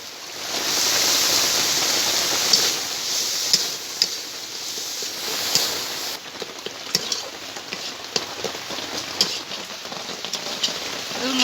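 Deboned Lote fish frying in hot oil and spice masala, a steady close sizzle with scattered crackles and pops, loud at first and settling slightly quieter.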